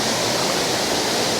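Linn Falls waterfall pours in a dense, continuous rush of water, loud and close, with no other sounds.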